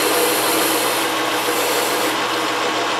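A tool cuts grooves into wood for a rod bending jig, giving a steady, loud rasping and grinding that runs without pause throughout, with no talking.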